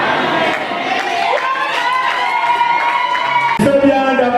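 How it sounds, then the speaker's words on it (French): Wedding guests cheer and whoop with joy, a dense crowd of overlapping voices and ululating cries sustained throughout at close, loud level. "Tu fais bien d'applaudir, tu fais bien de pousser les cris de joie"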